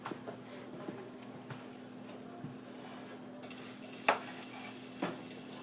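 Onions stir and fry quietly in a pan, with a soft sizzle that brightens partway through and a few light utensil scrapes and taps, close and with no voices.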